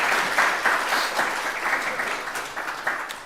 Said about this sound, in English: Anyhow, the wonderful session, and we applaud